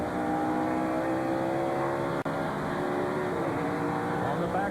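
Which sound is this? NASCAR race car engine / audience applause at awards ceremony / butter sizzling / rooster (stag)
NASCAR race car engine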